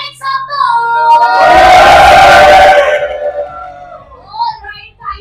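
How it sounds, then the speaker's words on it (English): An audience cheers at the Monin Cup India 2024 event in one loud burst of shouting and yelling lasting under two seconds. A single voice speaks before the burst and again after it. "Come on, everybody, a big cheer to Monin Cup 2024. Make some noise!"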